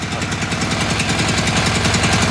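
A small portable generator engine runs with the choke on, a steady rattly rapid-firing chug close by, with no voices.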